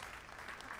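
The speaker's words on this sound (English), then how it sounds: "Crowd, just start clapping before they even leave." Crowd applause in the video game Goodbye Volcano High, a short steady burst of clapping filling the moment with no talk over it.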